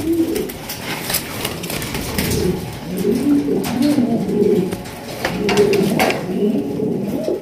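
Jacobin pigeons coo in soft, repeated low rolling calls, several birds close by, with faint clatter in the background and no talking.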